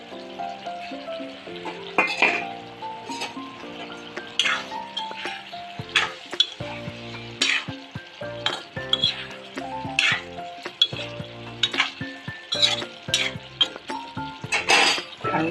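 Plantain (banana) fritters fry in a pan with a continuous sizzle and intermittent scraping and stirring clatter of utensils against the pan, while tonal background music plays along.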